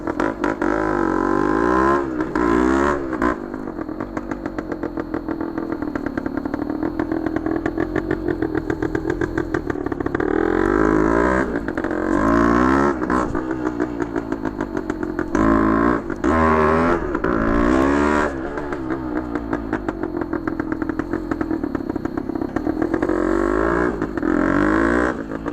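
Engine of a 1972 Yamaha RT2 360cc Enduro two-stroke motorcycle running loud and close, a buzzing idle with repeated throttle blips rising and falling, no talk.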